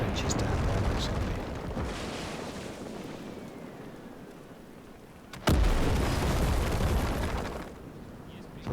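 Heavy artillery shelling trenches in the WWII strategy game Gates of Hell, Soviet campaign: a sustained rumbling roar of impacts, then one sharp, loud blast that rolls into another long, booming rumble.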